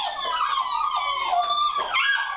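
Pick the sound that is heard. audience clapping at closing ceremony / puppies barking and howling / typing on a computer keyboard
puppies barking and howling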